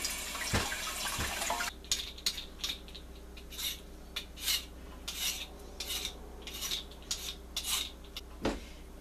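Close scraping and rasping strokes of a daikon radish being washed and peeled in a kitchen, irregular rhythmic rubs over a steady low hum, with no talk.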